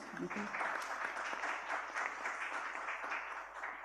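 Audience applause at an international postgraduate student conference, steady clapping from a modest crowd that fills the whole few seconds at moderate, even loudness.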